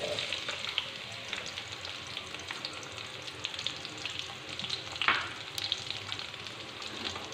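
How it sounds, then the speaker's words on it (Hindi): Onions frying in oil in a kadai that just held fried chicken for a creamy chicken karahi, giving a continuous bright crackling sizzle with occasional clinks and one louder stir-like burst, close and steady throughout. "अब हम उसी कढ़ाई में ऑयल में जो है वो प्याज शामिल कर देंगे।"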